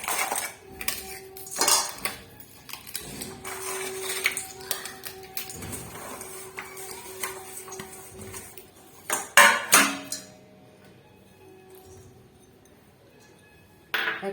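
Grated ginger, jaggery and ghee are mixed in a metal vessel for a Bengali makar sweet, with clinks and scrapes of a spoon against the pot. The clatter comes in irregular bursts, louder near the middle.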